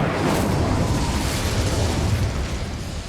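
A fiery incendiary spell blast from Hogwarts Legacy erupts loud and close, a sustained roaring burst of flame and crackle that holds steady for about three seconds before easing slightly.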